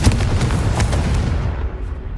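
A Confringo fire spell blasts in Hogwarts Legacy, one loud, sharp explosive burst followed by a rumbling boom that fades out over a couple of seconds.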